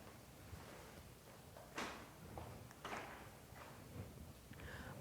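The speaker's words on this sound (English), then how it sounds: "And maybe shut that door." A door is shut in a presentation room, giving a few muffled knocks and latch clicks spread over several seconds, faint against a steady background hiss.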